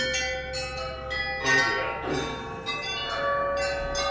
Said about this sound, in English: I want you to make the bell ring, but only to ring one time